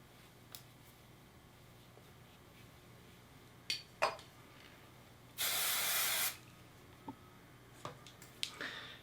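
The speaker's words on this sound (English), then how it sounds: "always remember when you're teasing, spray the hair first like I just did" Hairspray hissing onto hair just behind the bangs before teasing: one loud, steady spray burst lasting about a second, close by, with a few light clicks and taps before and after and no talking.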